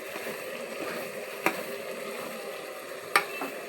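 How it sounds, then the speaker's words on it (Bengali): Boiled chickpeas are stirred and sautéed in a pan after pressure cooking, giving a steady soft scraping and sizzle with two sharper clacks of the spoon against the pan. "সিটি দেওয়ার পরে এই যে একটু কষায় নিচ্ছি"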